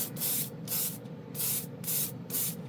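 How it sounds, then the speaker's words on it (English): Short bursts of spray-can primer hiss, five or six in a row with brief pauses between, close and fairly loud. "Spray can based primer."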